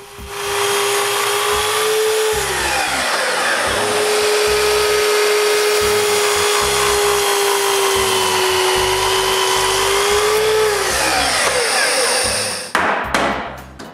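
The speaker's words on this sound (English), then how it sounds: "Then we're ready to cut the door frames to length" Power saw cutting wooden door frames to length, a loud continuous motor whine that sags in pitch twice under load, ending with a few sharp clunks.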